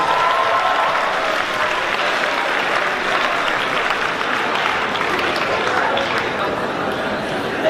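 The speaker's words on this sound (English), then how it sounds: "Let's give another round of applause for this." An audience at a community meeting gives a sustained round of applause, the clapping thick and continuous for several seconds with faint crowd murmur beneath it.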